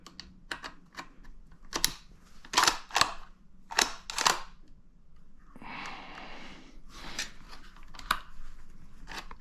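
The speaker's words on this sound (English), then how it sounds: "So this button over here, that's to release the bolt." Clicks and snaps come from handling a budget 5.56 rifle and its bolt-release button: a run of sharp, close mechanical clicks, some in quick pairs, then a brief rustle and a few more clicks, with no talk.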